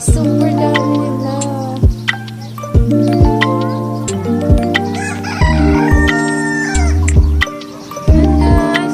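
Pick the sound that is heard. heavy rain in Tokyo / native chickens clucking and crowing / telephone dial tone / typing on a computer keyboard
native chickens clucking and crowing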